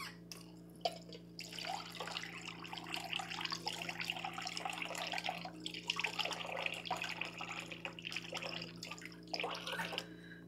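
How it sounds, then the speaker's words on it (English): A kitchen tap runs water into a bowl for an egg wash, a moderate hissing splash that starts after a second and continues steadily with brief dips, fairly close and without talking. "I'm just going to get us a little tiny bit of water."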